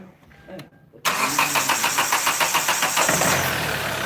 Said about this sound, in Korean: 갈았으니까 지금 시동을 걸어 볼게요